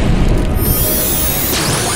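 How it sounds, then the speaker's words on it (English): Explosion sound effect, a loud, dense, sustained roar and rumble filling the whole two seconds with a whooshing sweep near the end, close and alone. "Explosion!"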